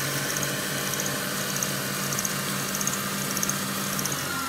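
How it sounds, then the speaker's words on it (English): A treadmill motor drives a Harbor Freight lathe at full speed, running just below 3000 RPM, producing a steady, continuous mechanical whir with faint rattling, close and alone with no talking. "when the treadmill motor is spun up to full speed, it'll get just below"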